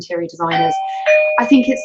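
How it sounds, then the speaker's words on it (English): Ring doorbell chime sounds indoors, clear sustained ringing tones under someone talking, with no pause between them. "ooh, that's my doorbell going."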